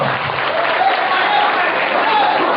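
Brief burst of steady clapping from participants in a group training session, close and continuous from start to finish.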